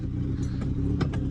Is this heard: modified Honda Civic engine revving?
yes